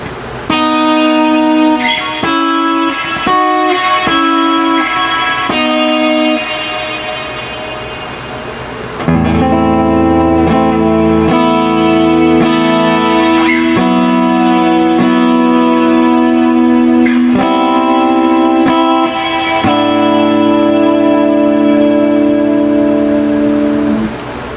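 An electric guitar rings through a Quilter Aviator Gold amplifier with its reverb dwell turned fully up, sustained chords and notes blooming into a long, dense wash of reverb that swells and decays between strums, loud and without talk.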